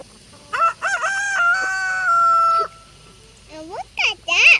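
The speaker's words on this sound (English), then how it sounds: "It's a rooster" A huge pet rooster crows up close, one long drawn-out call followed by shorter clucking calls, with light background noise.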